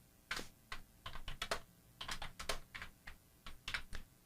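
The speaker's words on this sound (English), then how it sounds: "Type in my text, hit enter." Close, quiet keystrokes on a computer keyboard, a run of uneven taps in small clusters with short pauses between them.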